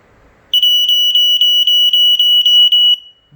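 A Fyrnetics Lifesaver 0910 second-generation smoke alarm sounds a piercing high-pitched beeping in rapid pulses, loud and close for about two and a half seconds, with no talking.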